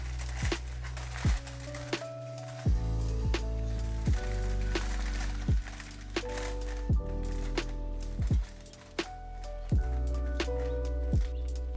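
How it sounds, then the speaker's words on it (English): Flan molds covered in aluminum foil are dropped onto a kitchen countertop a few times, giving a string of sharp, resonant knocks with ringing tones, spaced roughly a second apart. "I gently drop the molds onto the countertop a few times to release any remaining bubbles"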